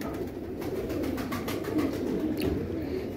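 Pigeons coo softly in a loft, their low murmuring calls blending over a constant noisy background, with faint rustling and no clear speech.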